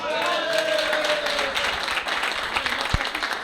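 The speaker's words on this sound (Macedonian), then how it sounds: "Аплауз!" Applause from the crowd at a veterans' gathering of the FK Teteks and FK Ljuboten football clubs in Tetovo, a sustained wash of clapping with voices and whistles mixed in, filling the room for several seconds.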